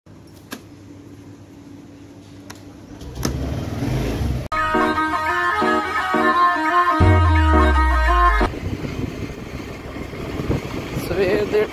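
A scooter is ridden along quiet early-morning roads, its engine humming and then revving louder with a rumbling low drone midway, with passing noise and a person talking.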